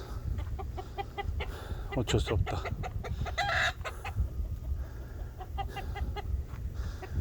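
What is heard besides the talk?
chicken clucking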